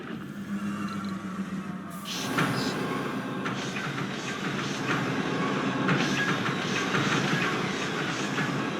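Trains roll through a Mars colony in the video game Surviving Mars, giving a steady, faint rumbling and clattering that builds slightly and runs continuously with no talking.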